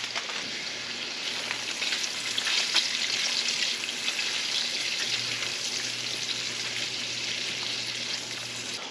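Onions fry in a pot for cheddar broccoli soup, giving a steady bright sizzle that holds for several seconds with faint crackles and a low hum underneath and no talking.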